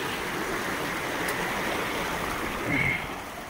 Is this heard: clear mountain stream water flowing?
yes